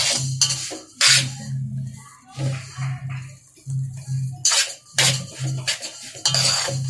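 Sesame seeds and jaggery are stirred and roasted in a pan for sesame laddu, with repeated scraping and clinking of a spoon against the metal in short irregular bursts, loud and close, with no talk.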